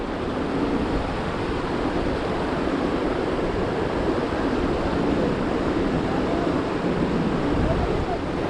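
Steady, close roar of falling water and blowing mist at a waterfall in Zion National Park, a dense continuous rush with wind buffeting the microphone throughout.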